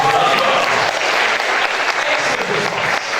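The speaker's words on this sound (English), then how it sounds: "And the audience will give you a round of applause." Dense, steady applause from an audience at an Oxford Think Week 2012 lecture, with many hands clapping at an even level throughout and no voices on top.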